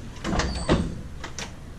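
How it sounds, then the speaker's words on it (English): Car door of an Uber ride being opened, a short muffled mechanical clunk and slide heard close up, followed by a second fainter rattle. "Let's just open the door maybe."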